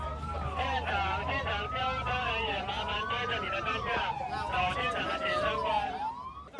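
Ambulance sirens wail in long rising and falling sweeps at a bus rollover crash on a national freeway in Changhua, Taiwan, loud and continuous over a busy background with voices beneath.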